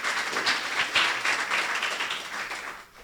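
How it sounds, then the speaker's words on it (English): Audience applause at a Providence mayoral candidates forum, a steady wash of many hands clapping at moderate distance, continuous for about three seconds before tapering off. "So Elmwood and South Providence Neighborhood Association, give them a round of applause."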